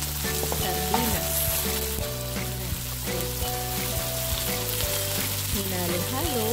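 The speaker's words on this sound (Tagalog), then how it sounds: "Tapos, binuhos na sa kawali ang sardinas." Sardines poured into a pan of browned garlic sizzle steadily at moderate level, with a constant frying hiss, some low tonal hum and faint background voice fragments mixed in.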